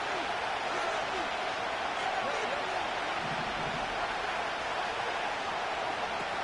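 Steady roar of a large stadium crowd at an American football game in a video game, a dense wash of cheering noise that continues throughout without letting up.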